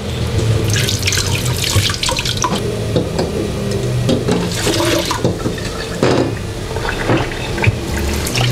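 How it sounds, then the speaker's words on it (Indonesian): Lotus leaves are rinsed under a running tap, the water gushing and splashing continuously, close and loud, with handling splashes and drips throughout. "Kita akan cuci sampai bersih, sampai tidak ada abu dan tanah liat."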